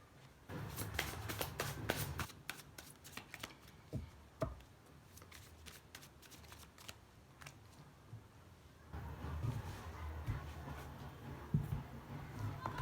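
A tarot deck is shuffled by hand: soft riffling and card-slapping bursts, quiet and close, with brief pauses between runs and a low background hum.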